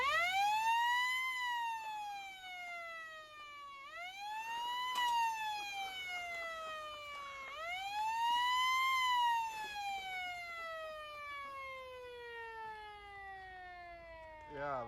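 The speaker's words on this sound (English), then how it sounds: "The 6-volt versus the 12-volt on that rooftop siren were definitely an amazing difference." A loud mechanical rooftop siren on a Volkswagen fire truck wails up and down in long sweeping cycles, rising and falling repeatedly, with faint voices in the background.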